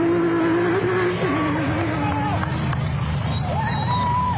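Off-road race cars in an 85-car field, including a Nissan Hardbody, roar away at the start of the 2002 Barberspan 500 in South Africa. Engines rev and rise in pitch over a steady roar, with crowd noise behind.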